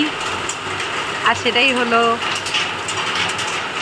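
Rain drums steadily on a tin roof as a continuous broadband patter filling the whole clip, with someone talking briefly over it.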